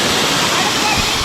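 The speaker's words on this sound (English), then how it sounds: "That waterfall comes down hard" Close, loud rush of a hard-falling waterfall at Ozone Falls in Tennessee, a steady roaring wash of pouring water that fills the short moment.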